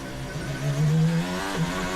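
A Formula 1 car engine revs in a quick throttle blip before a corner, its high harmonic whine swelling and falling, with a second short blip just after.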